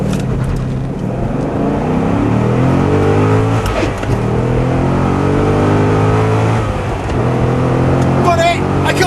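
A sports car engine roaring under hard acceleration, revs climbing through gear changes into third, loud and close from inside, with a voice talking over it.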